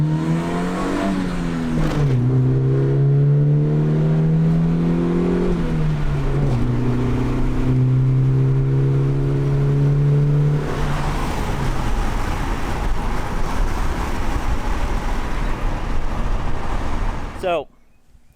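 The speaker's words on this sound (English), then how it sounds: "So, test drive with Ray went good" A Honda EF car's engine revs during a test drive, climbing and settling in several rising pitches, then holding a steady drone with road noise until it cuts off sharply near the end.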